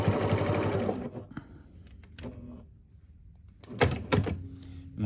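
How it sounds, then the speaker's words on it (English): A sewing machine stitches fabric pieces for a kitchen boa, sewing just beside a marked line in two close bursts, a loud run at the start and another near the end, with a quieter pause between them. "I'm just going to give it a stitch, not even 1/4 of an inch on either side of that black line"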